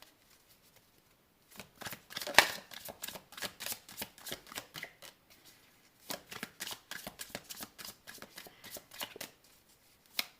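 Tarot cards are shuffled close up in two bursts of quick, crisp riffling and slapping, quiet and alone with no talking.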